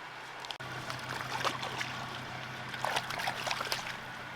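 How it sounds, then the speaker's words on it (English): Water trickling out through a freshly dug drainage channel on an abandoned forestry track, a soft continuous babble close by over a low steady hum. "There you go, see, water's heading out into this pondy area"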